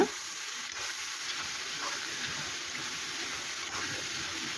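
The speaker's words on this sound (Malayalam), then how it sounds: "അരിഞ്ഞു വെച്ച ചക്ക ചേർത്ത് കൊടുക്കാം ചക്ക ഒന്ന് നന്നായിട്ട് ഇളക്കുക" Chopped jackfruit is stirred and fried in a pan, giving a steady, fairly quiet hissing sizzle with a faint steamy wash and little variation throughout.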